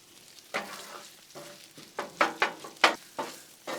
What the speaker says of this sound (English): Go ahead and throw your diced onions in too. Get some of them in there. Start cooking them down just a little bit